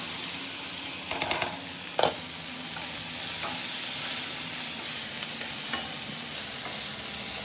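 Mustard seeds sizzle and crackle in hot oil for a cabbage and tomato dish, a steady broadband frying hiss with scattered sharp pops and occasional stirring scrapes, close and continuous with no talking.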